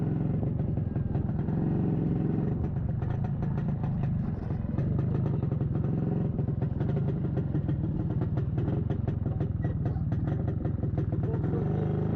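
A Pannonia motorcycle engine runs steadily nearby, a constant throbbing putter with rattling clatter, idling without much change throughout.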